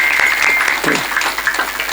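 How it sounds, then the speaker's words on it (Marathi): An audience claps at a kirtan gathering in honour of a pakhawaj player, a brief burst of dense applause mixed with a little voice. "यांच्यासाठी स्पेशल टाळ्या द्या"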